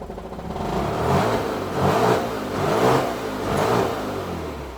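A Mazda RX-8 rotary engine runs unevenly, its revs swelling and dropping in a rough, lumpy rhythm, close and fairly loud.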